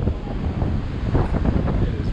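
A strong, cold north wind blows on a beach at Vero Beach, Florida. It roars steadily and loudly into the microphone, with surf rumbling underneath and nothing else breaking through.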